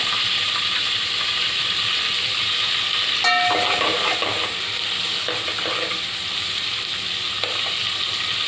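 Cumin seeds sizzling in melted butter and oil, a loud continuous hissing crackle with a sharp clink as they drop in, then steady frying with faint stirring.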